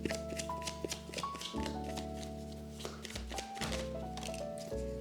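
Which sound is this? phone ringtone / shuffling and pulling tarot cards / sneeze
shuffling and pulling tarot cards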